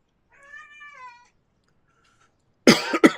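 Cats in a pet shop setting give a drawn-out, wavering meow, followed after a pause by a short burst of louder, rough coughing-like cat sounds close to the microphone.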